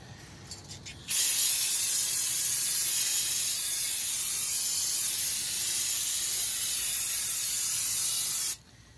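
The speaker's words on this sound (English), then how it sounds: "Something else I like to do is spray the whole thing off with brake cleaner" A loud, steady aerosol hiss of brake cleaner being sprayed over a Chevrolet Cavalier's front brakes runs unbroken for about seven seconds, then cuts off abruptly.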